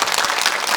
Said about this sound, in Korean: 다시 한번 박수 보내주시면